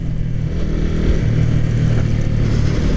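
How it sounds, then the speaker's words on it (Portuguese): A Yamaha Fazer 250 ABS motorcycle accelerates on the road, its engine note loud, close and rising steadily with continuous wind and road rumble and no talking. "acelera que é uma delícia."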